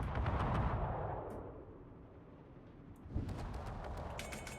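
Naval gunfire from the German cruiser Mecklenburg in World of Warships: heavy booming salvos with a rumbling roar that fades, then a fresh burst near the end, loud and close with no talk.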